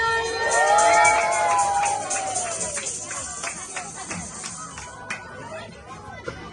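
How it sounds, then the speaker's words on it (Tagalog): A birthday-party crowd erupts in loud cheering and shouting, with children's high voices rising over a dense wash of clapping and chatter that gradually settles. "gusto daw po muna niyang marinig ang malakas niyong palakpakan na may kasama sigawan"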